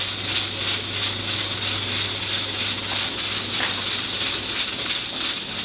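Steady, loud hiss of steam escaping from a pressure cooker cooking chickpeas, its weight rocking and jiggling, a constant close rushing sound with no pauses or voices.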